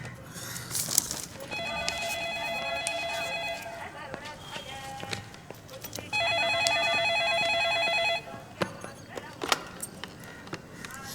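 A telephone rings in two long electronic bursts with a pause between, amid clattering and rustling noises nearby.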